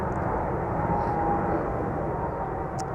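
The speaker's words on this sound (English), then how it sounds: "the Delta A350 spooling up" Delta Air Lines Airbus A350 jet engines spooling up at Amsterdam Schiphol Airport, a steady loud broadband roar holding level throughout with no one talking.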